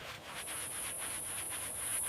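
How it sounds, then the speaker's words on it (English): A sanding block rubs slowly over worn metal on a WWII field gun barrel and mount, giving a soft, close, continuous scraping hiss with faint repeated strokes and no talk. "Sanding block moves slowly along surfaces,"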